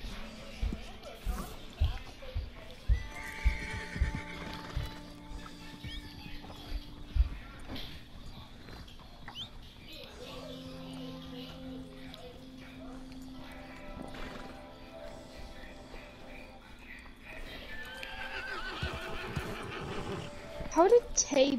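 Horses whinny repeatedly and hooves clop in Red Dead Redemption 2 gameplay, with several neighs at the start and clopping steps later, mixed with game music tones while players talk throughout.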